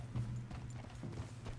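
Horse hooves clip-clopping in Red Dead Redemption 2, a steady rhythm of close, moderately loud hoof falls over a low ambient hum.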